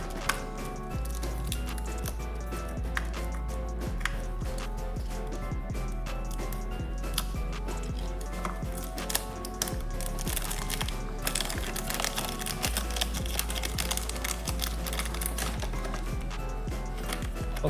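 Packaging for a Tarmac acrylic display case holding a model car is opened, with dense crinkling, crackling and rustling of wrapping throughout, close and continuous, over a steady low background hum.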